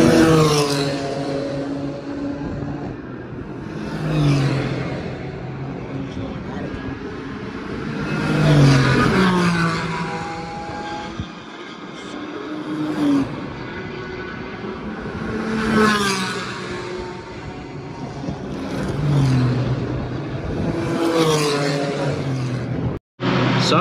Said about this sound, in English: Let's see what's out here racing right now. Whatever it is, they're flying.